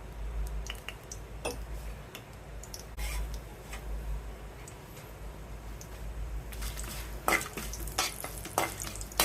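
Black cumin and whole spices crackle in hot oil for bagara rice, a soft continuous sizzle broken by sharp pops and spatula clinks, busier toward the end.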